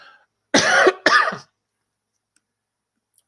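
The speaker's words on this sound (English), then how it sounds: "How long have you had that cough?" A person gives two harsh, close coughs in quick succession, then silence.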